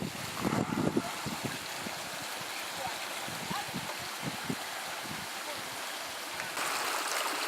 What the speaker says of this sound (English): So we're now at Burbage brook.